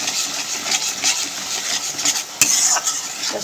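Fish curry is stirred in a pan while cooking: a continuous close scraping and sizzling texture with a sharper clink near the end, no voices.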